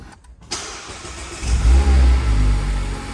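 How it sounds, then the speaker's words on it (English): A 2.0-litre Mazda MX-5 Sport Nav+ engine cranks and fires, then settles into a deep, rumbling exhaust note that swells as it revs, loud and close. "A gentle exhaust note, but nonetheless one which makes it clear that this is a performance car."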